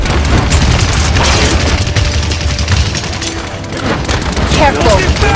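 A deployed turret fires in a Paladins match, producing loud rapid gunfire and booming impacts that continue almost without pause amid chaotic combat effects, with voices heard during the fight.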